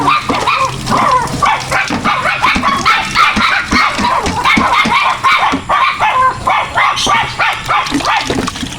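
A dog barks and yips repeatedly up close, rapid and continuous, with excited higher-pitched yelps mixed in.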